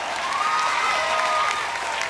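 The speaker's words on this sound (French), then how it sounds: "une salve d'applaudissements pour Monsieur Ian McElhinney" A convention crowd gives a standing ovation to actor Ian McElhinney, a dense, even roar of clapping from a large audience that holds steady for two seconds.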